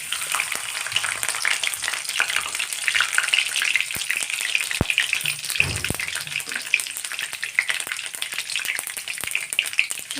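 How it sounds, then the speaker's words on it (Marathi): Mustard seeds and garlic cloves frying in hot oil for Maharashtrian kadhi: dense, steady crackling sizzle with scattered sharp pops, close and fairly loud throughout, no voices. "तेल टाकून घेतलेले मोहरी लसणाच्या पाकळ्या आहे"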